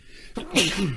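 A single sharp human sneeze, close and loud, with a quick inhale leading into the burst and a short voiced tail, heard alone in a quiet room.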